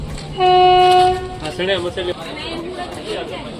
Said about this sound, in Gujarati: પાછી ટ્રેન ધીમે ધીમે ચાલી રહી છે મિત્રો.